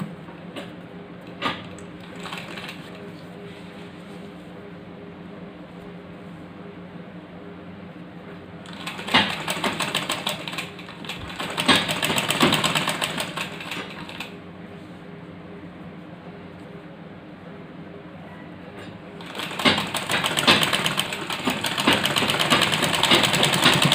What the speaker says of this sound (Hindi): किनारे किनारे बेंड कर दीजिए और उसके ऊपर आप मशीन चला दीजिए।